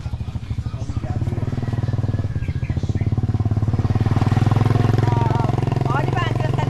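A motorcycle engine runs close by on a village road in Barangay Malbogon, Libmanan, Camarines Sur, a loud steady throbbing putter that swells slightly as it passes, with people talking over it.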